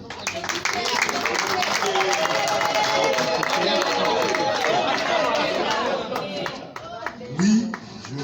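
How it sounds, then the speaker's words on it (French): Guests applaud at a civil wedding ceremony: a dense, sustained patter of many hands clapping, mixed with crowd chatter and voices, fading slightly near the end. "On applaudit."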